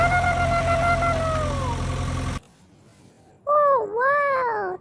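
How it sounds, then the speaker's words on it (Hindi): A steady, droning engine hum from a green cartoon tractor runs for a couple of seconds with a faint whistling tone, then drops away before a short, wavering cat-like cry. "ओह वाह ट्रैक्टर।"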